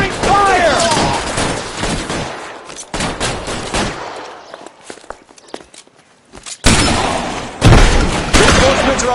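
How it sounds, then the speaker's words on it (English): Gunfire in L.A. Noire, bursts of rapid shots and loud booms, close and harsh, dropping to a quieter lull before heavy firing resumes, with footsteps and shouted voices mixed in. "Covering fire!"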